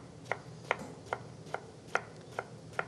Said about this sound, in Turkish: Aynı ölçülerde kesiyoruz.